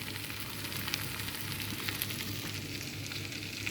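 Shrimp heads fry in olive oil for an okra and potato bhaji, giving a steady, close, dense crackling sizzle with occasional sharper pops and no talking.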